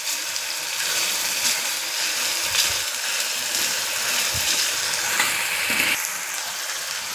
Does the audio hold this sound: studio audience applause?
no